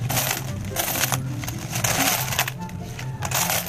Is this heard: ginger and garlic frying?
no